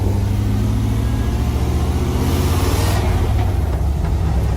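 A $600 five-speed Iroc Camaro engine drones steadily from inside the car while driving, a loud low rumble that holds constant with a slight swell partway through.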